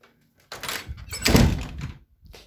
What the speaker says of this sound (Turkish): Şu kapıyı kapatayım.